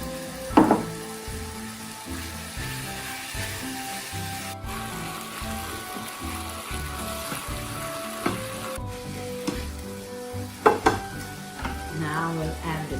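Fresh spinach sizzles steadily in a hot pan while being stirred, with scraping utensil clatters at intervals, no talking.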